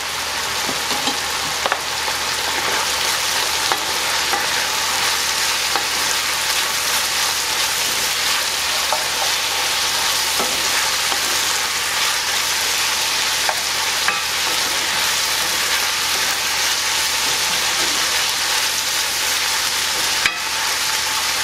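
Potatoes frying with cumin in a hot pan, a steady close sizzle with faint crackles and occasional stirring scrapes, continuous and uninterrupted.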